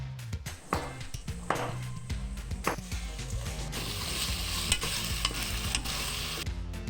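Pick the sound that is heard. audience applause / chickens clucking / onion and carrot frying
onion and carrot frying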